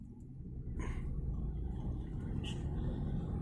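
A Tata Tiago CNG hatchback driving in CNG mode, a steady low engine and road rumble heard from inside the cabin, quiet and continuous, with faint bits of voice.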